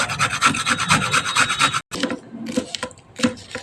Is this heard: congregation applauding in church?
no